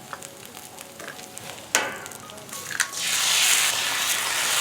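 A couple of eggs cracked onto a hot griddle beside burgers: a few sharp cracks and taps, then a steady loud sizzle that swells and holds close by, with no talk.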